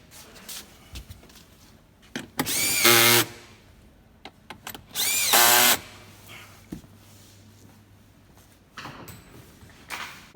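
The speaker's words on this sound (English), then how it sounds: "once again we just tighten them down." A power tool tightening seat mounting bolts while fitting low profile seats in a Toyota Land Cruiser 200 Series, two loud whirring bursts of about a second each, with softer clanks and knocks between them and no talk.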